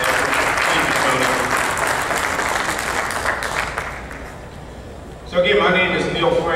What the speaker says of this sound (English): So join me again in giving Tony a hand and a round of applause